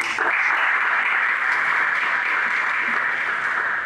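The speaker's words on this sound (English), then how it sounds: "give them a round of applause" An audience at the Tip Colley Awards 2022 gives a sustained round of applause for a student athlete support team, a steady dense wash of many hands clapping, fairly loud and even throughout with no pause.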